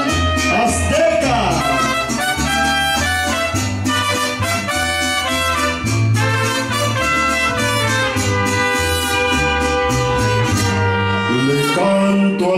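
Mariachi band plays a ballad, with full, continuous ensemble sound of strings, trumpets and a sung melody carrying steadily throughout at loud level.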